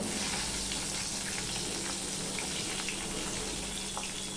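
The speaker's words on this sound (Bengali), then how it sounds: "এই তেলের মধ্যে আমি এই বেগুনগুলো ভেজে নেব" Eggplant pieces fry in oil left from cooking fish heads, giving a steady, moderately loud sizzle and crackle with small pops scattered throughout.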